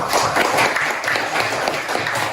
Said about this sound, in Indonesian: tepuk tangan untuk Wangga